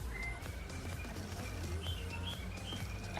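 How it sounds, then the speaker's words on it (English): Small pet birds chirp faintly in the background, with thin, scattered tweets over a low steady indoor hum. "I apologize if you can hear my birds in the background."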